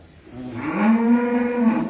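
A cow on an organic cattle farm lets out a single long, loud, close moo that swells and holds steady, with no talk over it.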